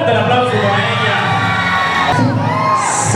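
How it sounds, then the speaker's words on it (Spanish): Pageant audience cheering for a newly named winner, a loud, dense crowd roar with shouts and whoops, children's voices prominent, continuous throughout. "Fuerte el aplauso para ella."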